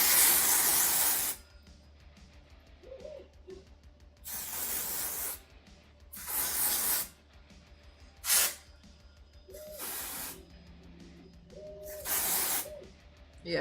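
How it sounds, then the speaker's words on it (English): Spray is pumped onto a heavy curtain in repeated loud hissing bursts, each lasting about a second or two with short pauses between, close to the listener, with a faint voice in the quiet gaps. "You essentially spray it everywhere like this."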